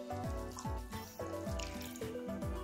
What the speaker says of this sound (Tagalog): Lagyan na natin ng konting tubig.